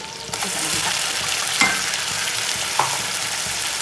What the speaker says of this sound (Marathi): बघा आपल्या इकडे मसाला भाजतोय ना